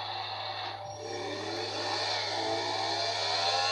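A modified motorcycle engine runs with a steady, loud droning hum, pitch rising slightly as it revs under constant engine noise, no voices over it.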